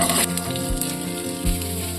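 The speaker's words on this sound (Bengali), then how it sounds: "দেবো তেল, আর দেবো পেঁয়াজ কুচি।" Chopped onions fry in hot oil in a pan, a steady close sizzle with light crackle running throughout, plus a couple of soft low thumps, without any voices.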